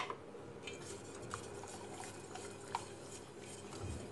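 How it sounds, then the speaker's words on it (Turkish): A spoon stirs one and a half tablespoons of dissolved starch into boiling plum marmalade in a pot, making soft scraping and clinking against the pan with faint bubbling, steady and close, with no voices. "Ve karıştırıyorum."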